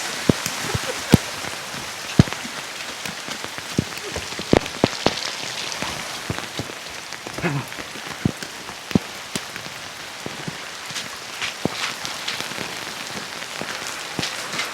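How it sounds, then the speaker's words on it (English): Heavy storm rain pours onto a roof under repair, a dense steady patter with frequent sharp, close drop impacts and splatters that ring out irregularly through the downpour. "Another damn rain."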